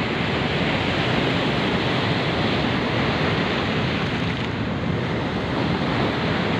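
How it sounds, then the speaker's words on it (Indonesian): Large ocean waves crash and roar continuously at Karapyak Beach in Pangandaran, West Java, a loud, steady surf wash with heavy wind rumble on the microphone and no voices. "gede banget ombaknya guys."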